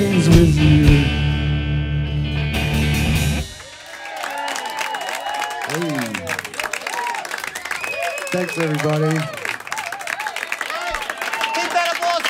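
Audience applauds and cheers at a live show as a band finishes its song, the music cutting off into a steady wash of clapping while a host speaks over it.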